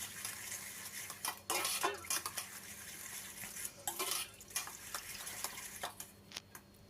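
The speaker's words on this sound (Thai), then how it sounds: "จากนั้นเราก็คนๆให้ส่วนผสมเข้ากันก่อนครับ" Utensils clink and scrape against a bowl while strawberry salad ingredients are tossed together, a string of sharp, close taps and rattles in quick irregular bursts over a quiet background.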